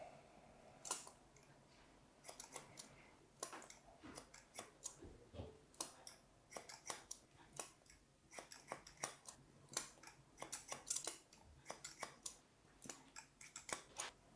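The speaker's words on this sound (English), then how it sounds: "Just point cut the ends." Hair-cutting scissors point cut the ends of long hair during a men's haircut, producing rapid, irregular runs of crisp close snips with no voices.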